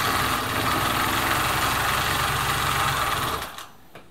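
A Husqvarna Viking Automatic 21e sewing machine runs with a close, even mechanical whir and steady rhythmic chatter for over three seconds, then winds down and stops, leaving a couple of soft clicks.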